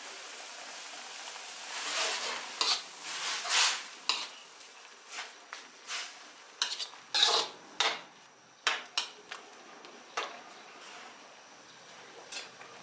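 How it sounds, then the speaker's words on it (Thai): Utensil stirring egg into pork sukiyaki broth in a pot, a series of irregular clinks and scrapes against the pot, some louder and close, scattered over a quiet simmering background. "พอเราใส่ไข่แล้วเราคนไม่กี่ที เราก็ ปิดหม้อได้เลยนะคะ"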